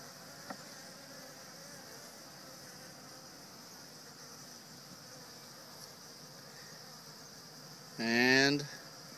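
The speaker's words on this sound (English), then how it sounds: "There's all the bees in there." Honeybees in a small nuc hive give a faint, steady, even buzz throughout, with a brief louder, higher-pitched burst near the end.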